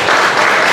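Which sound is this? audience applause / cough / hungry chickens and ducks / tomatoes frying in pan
audience applause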